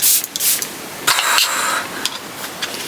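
Charlotte Tilbury Airbrush Flawless setting spray sprays in several short, loud, close hissing bursts, with brief pauses between them and no voices.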